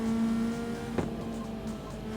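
A race car in the street-racing video game CarX Street holds a steady engine drone, with a brief sharp burst midway as it shifts or brakes, then the engine settles back into its hum.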